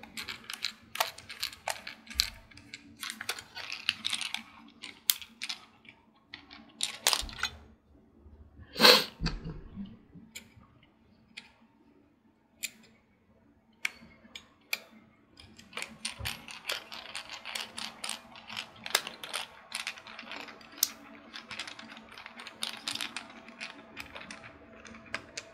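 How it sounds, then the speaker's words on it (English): Screws are driven in to install an SSD in an Alienware Alpha, with quiet ratcheting clicks and small metallic taps in scattered bursts and one louder clack partway through. "Alright, so we got all of our four screws in"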